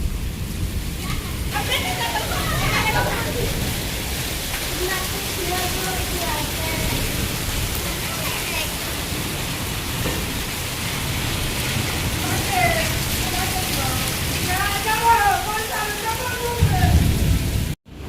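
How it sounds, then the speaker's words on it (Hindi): Heavy rain with hail pours down in a continuous, steady hiss as water flows into a house, with a voice faintly audible beneath it near the end. "हमारा घर में पानी आ रहा है बारिश का"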